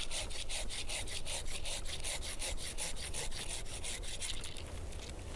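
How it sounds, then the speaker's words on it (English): Pruning saw cutting through a fruit tree branch, a steady run of rasping back-and-forth strokes, close and continuous, with no talking. "you're letting the saw cut through the branch"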